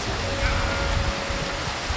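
Rain falls steadily on an outdoor football training ground in Sapporo, Japan, a dense, even hiss that fills the whole moment without letting up, with no clear voices on top.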